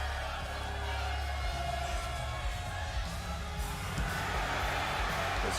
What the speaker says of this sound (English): This crowd fired up to see him.